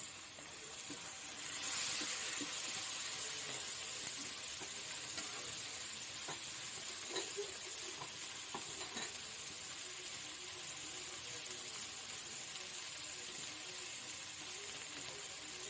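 Onion, garlic, ginger and green chili sizzle in a pan for egg biryani, a soft, steady frying hiss with faint stirring scrapes, fairly quiet and with no voices.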